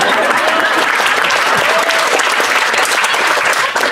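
Sustained applause from a church congregation fills the space, a dense, steady clatter of many hands held loud and close throughout.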